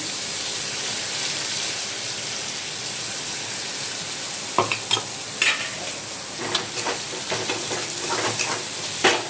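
Green chilli, ginger, cumin and garlic paste frying in fat for a pointed gourd and potato curry, a steady hissing sizzle joined midway by a series of clattering stirs against the pan, close, with no talk.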